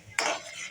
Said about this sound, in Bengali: একটু নেড়ে দেখি ঝোলটা কেমন ঘন হয়েছে